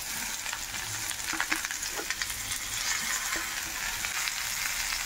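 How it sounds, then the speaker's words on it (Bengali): Potatoes frying in oil for a mild Murshidabad-style vegetarian tok as tomatoes go in, a steady busy sizzle with a few soft stirring knocks, close and fairly loud, no talk. "এবার আমি এর উপর দিয়ে দিচ্ছি টমেটোগুলো"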